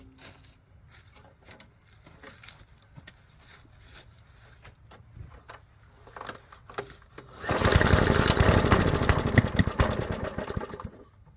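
An old abandoned lawn mower engine cranks with faint pulls and rattles, then starts at about seven seconds and runs loudly and roughly for several seconds before easing off slightly.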